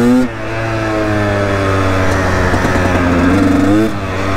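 Up close, a KTM EXC 250 two-stroke dirt bike engine revs loudly with a buzzy, high-pitched drone that rises, holds, and dips, with a sharper rev near the end before settling.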